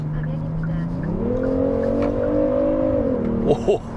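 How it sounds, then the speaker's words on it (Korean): A Kia K9's 3.8-litre naturally aspirated V6 revs up steadily under acceleration, a smooth rising drone heard from inside, then easing off with a couple of brief knocks at the end. "기존의 현대기아차 6기통 엔진에서 들리지 않던 생소한 소리인 것 같은데"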